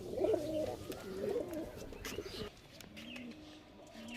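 Pigeons coo repeatedly in a loft where Lalmon pigeons are kept, with a male pigeon nearby; the coos come close and loud at first, then softer and steadier under faint background chirps.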